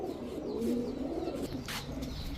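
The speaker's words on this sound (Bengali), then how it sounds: "এখন দেখাবো এক জোড়া হোয়াইট জার্মান বিউটি, একেবারে রানিং জোড়া, জিরাফ গলা, তোতা শেপের কবুতর।" Fancy pigeons, including a white German Beauty pair with long giraffe-like necks and parrot-shaped heads, coo softly and close by, a low repeated warble over faint background noise.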